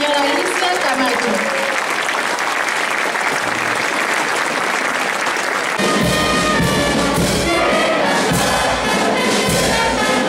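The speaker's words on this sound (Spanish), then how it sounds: "Fuertes aplausos para la señora Alicia Camacho." A crowd at a school Fiestas Patrias ceremony applauds a staff member with sustained clapping, loud and fairly close, shifting partway through to denser applause with music or cheering rising underneath.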